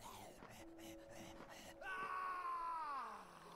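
A zombie in the steampunk zombie survival game Simantik lets out a drawn-out, moaning scream that rises and then trails off over about two seconds, following a few short guttural groans, heard alone at moderate loudness.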